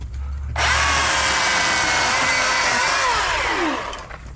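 A Milwaukee battery chainsaw running on a 2.0 battery revs up abruptly and cuts through a shrub, a steady, loud, high-pitched motor whine lasting several seconds before winding down.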